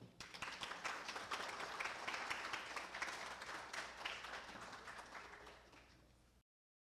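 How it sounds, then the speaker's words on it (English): A room of attendees at a Cayman Islands building energy-efficiency program closing event breaks into dense, even applause that holds steady, then tapers slightly before cutting off abruptly. "Please give her a round of applause"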